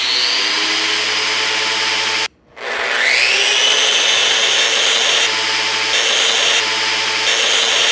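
Festool and Makita power sanders run in aggressive mode, each giving a loud, steady motor whine with gear noise. There is a brief drop as one stops and the other spins up to a similar sustained tone.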